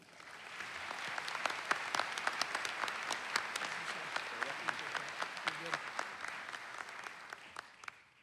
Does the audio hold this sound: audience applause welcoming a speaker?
yes